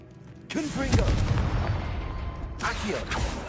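Confringo fire spell blasts in Hogwarts Legacy inside a tomb: two loud, booming bursts, the first erupting sharply and rumbling on, the second following about two seconds later, with a voice underneath.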